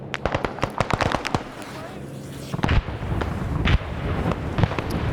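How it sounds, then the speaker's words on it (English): Airstrike explosions in the Vietnam War military game SOG Prairie Fire, a rapid series of sharp booms and crackling blasts that starts dense, pauses briefly and then resumes with heavier rumbling hits, with talk over part of it. "Great airstrikes on the smoke."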